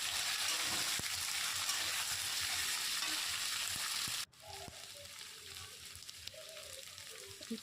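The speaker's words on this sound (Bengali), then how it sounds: "তারপর আলুগুলোকে ছেড়ে দেবো।" Potatoes fry in hot oil with bay leaf and cumin in a pan. A loud, steady sizzle drops abruptly to a quieter crackle with some stirring.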